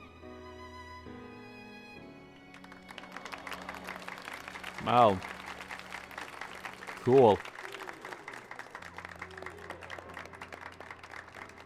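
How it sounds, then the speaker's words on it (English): Crowd of characters applauding in a Final Fantasy XIV cutscene, a soft patter of clapping under background music, with two brief spoken exclamations from a nearby voice. "Why does everyone clap so weirdly?"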